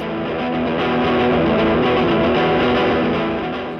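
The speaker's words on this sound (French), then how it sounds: "on a choisi la guitare électrique parce qu'on peut mettre pas mal d'effets, de distorsion, de larsen et trouver des sons assez bruts, assez énervés" An electric guitar played through heavy distortion and effects gives a loud, dense, gritty wall of sustained tone with no gaps, raw and aggressive throughout, with no one talking.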